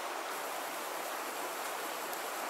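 The Ombrone river in Tuscany flows past a wide gravel bank, a steady broadband rush of water heard close and continuous with no voices.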